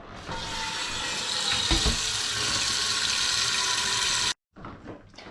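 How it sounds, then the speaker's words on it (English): Water pours steadily from a tap into a pot with a loud, continuous rush, then cuts off abruptly, followed by a few brief clattering sounds. "we need to fill up the pot with the water."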